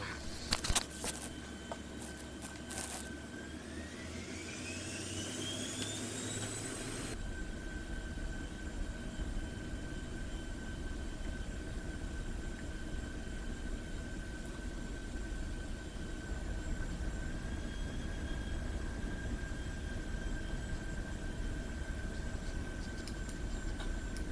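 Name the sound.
Cirrus Vision Jet rolling for takeoff in X-Plane 12 video game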